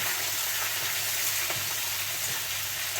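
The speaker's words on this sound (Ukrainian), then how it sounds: "Сковородочка шкварчить." A frying pan sizzles loudly and continuously, a dense crackling hiss with faint stirring ticks.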